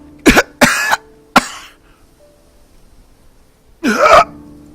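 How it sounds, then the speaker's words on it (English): Several harsh, close coughs: a quick burst of three, a pause, then one more heavy cough. "The coughing was heavier this time."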